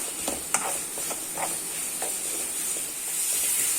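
Bread masala cooking with garam masala in a pan, a steady soft sizzle and hiss with a few light stirring scrapes, close and continuous with no talking.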